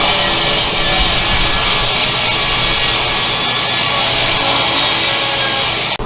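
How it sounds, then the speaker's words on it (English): A saw rips strips off a plain sawn oak board with a steady, loud, continuous roar that stops abruptly at the end, close up and with no talking. "Now I'm cutting these strips off."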